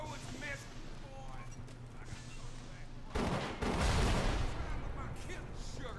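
A loud blast rips through the Bioshock game scene partway in, a broad burst that holds and rolls on under steady background noise, with someone talking over it.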